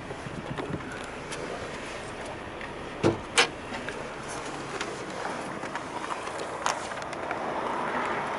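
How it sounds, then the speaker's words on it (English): Bonnet of a 2010s Fiat 500 1.2 Lounge three-door hatchback with a 69 bhp engine being released and lifted, giving a few sharp, close clicks and clunks over a steady, quiet background hiss. "So let's pop the bonnet."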